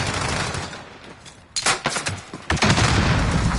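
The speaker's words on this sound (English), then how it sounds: "A lot of grenades going into this little arcade room." Gunfire and grenade blasts in an online multiplayer shooter match, aimed into a small arcade room: bursts of rapid shots and two sharp explosions near the middle and end, loud and close over constant battlefield noise.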